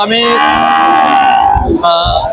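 A cow lets out a loud, long moo close by at a cattle market, with a second shorter low call and faint crowd noise behind.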